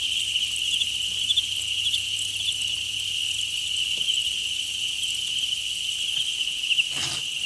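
Large-breed crickets in a breeding setup chirp in a dense, continuous high trill, steady and close with a faint low hum underneath and a brief knock near the end.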